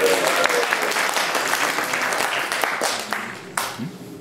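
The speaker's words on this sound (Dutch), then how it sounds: "Applaus voor Michael." Crowd applause at a celebration gathering, lively clapping from a room of people that thins out toward the end, with a few scattered claps and brief voices near the close.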